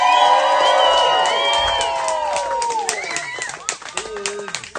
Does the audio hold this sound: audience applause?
yes